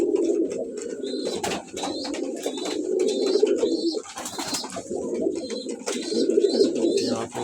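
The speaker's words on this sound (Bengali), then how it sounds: "এগুলো আমার অনেক পছন্দের কবুতর," Pet pigeons, including black and collared males, coo close by in a loft, low throaty rolling calls repeating in bouts with brief pauses, mixed with sharper chirps and wing rustles.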